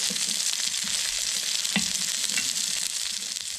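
Crayfish claws fry in a hot pan with a dense, continuous sizzle and crackle, close and steady, with a few sharper pops.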